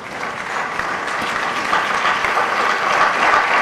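Applause from a church congregation, a dense, steady wash of many hands clapping together that swells slightly toward the end, with no speech over it.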